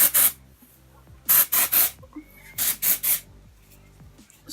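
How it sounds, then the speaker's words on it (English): OGX dry shampoo sprayed into hair in several short hissing bursts, a quick pair followed by a run of three and another pair, with soft rubbing and handling noise between sprays. "spray where I have it already."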